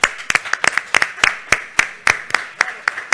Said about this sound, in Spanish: yo creo que se merece un aplauso lo primero